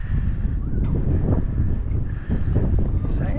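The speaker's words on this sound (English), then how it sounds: "I've got a north wind today." A north wind blows steadily across a sailboat on Grand Traverse Bay, a loud, constant rumbling buffet close on the microphone that lasts from start to finish.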